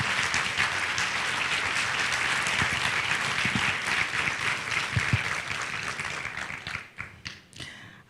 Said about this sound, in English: please give a warm round of applause to Dr. Carol Swain.